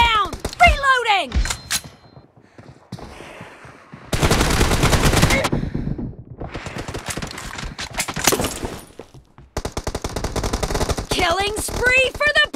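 M24 sniper rifle gunfire in a shooter video game, with several loud separate blasts and stretches of rapid mechanical clatter between quieter gaps, set among in-game voice callouts and effects.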